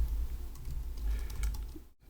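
Fingers tap a computer keyboard at close range, a quick run of light, uneven clicks over a low steady hum as a search term is entered on a shopping website, ending in a brief silence.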